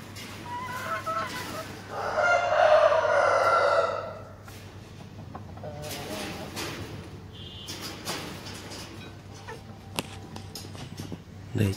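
Dong Tao chickens on a farm, with a loud crow rising out of close clucking early on, then scattered clucks and soft scratching noises carrying on alone with no talk.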